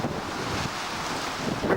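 Strong wind roars across the microphone on a seaside cliff along a coastal bay, producing a continuous buffeting rumble with gusty swells throughout the short stretch.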